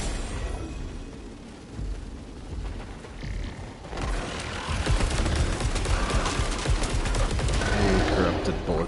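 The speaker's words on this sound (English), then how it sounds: "Bullets everywhere." Dense gunfire and bullets in the game Saros, a busy, loud barrage of rapid shots that thickens after the first few seconds, with a voice talking over parts of it.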